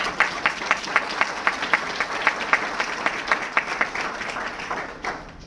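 A crowd at a political candidate forum applauds steadily, many hands clapping with rhythmic accents, before the clapping tapers off near the end.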